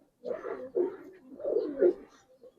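Silver Giribaz pigeons coo in a cage, several close, throaty coos rising and falling in a loose rhythm over a short stretch.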